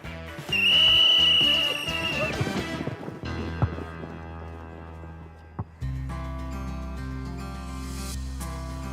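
A sharp, sustained high dog whistle blast rings out near the start over background music, followed by a music bed with occasional hoofbeat-like clops.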